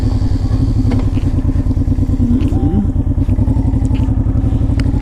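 A Honda VTX 1800 motorcycle is ridden with a loud, close, steady engine pulse. A deep rhythmic thrum holds throughout, with light rattling on top.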